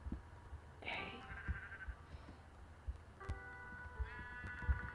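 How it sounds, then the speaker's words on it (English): Sheep in a video game bleat two or three times, short wavering calls that are fairly quiet and spaced apart over soft background game sounds. "Oh, hey, sheep."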